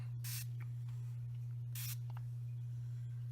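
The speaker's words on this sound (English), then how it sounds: "you are just going to spray directly onto the paper" Two short hissing bursts of ink mist sprayed onto dry cardstock, about a second and a half apart, over a steady low electrical hum in an otherwise quiet room.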